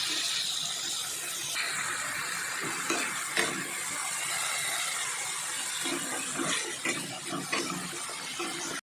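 Tomato paste frying in a pan for a village-style fish curry, a steady close sizzle with scraping stirs and small crackles throughout.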